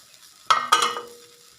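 A dried fish stir-fry in a pan: two sharp clanks of a utensil against the pan, each followed by a short fading rattle, over a near-silent background.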